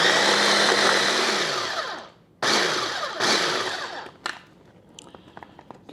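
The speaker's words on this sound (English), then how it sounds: "let's get the blender started here" A blender purees gyro meat in loud pulses, with a long whining run that cuts off, two more short bursts, then quiet scraping and clinks as the motor stops.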